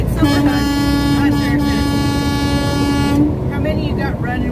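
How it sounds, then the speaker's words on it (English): Several car horns honk together in a road convoy heading to Jefferson City, one long steady blast held for about three seconds over a busy traffic roar, with voices talking underneath. "Honk for those babies."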